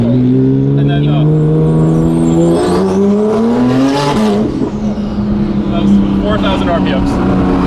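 A sports car engine climbs in revs through an in-gear acceleration pull, its rising tone loud and close and holding steady across the run, with people talking over it inside the cabin.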